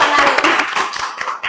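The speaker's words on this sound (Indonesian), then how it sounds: "Alhamdulillah, ayo kita tepuk tangan." A small group claps hands together at the close of a class session, a brief, close burst of quick, uneven claps that thins out within about a second and a half.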